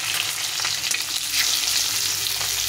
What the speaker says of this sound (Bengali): হালকা হালকা করে ভাজবো, খুব একটা বেশি ভাজবো না।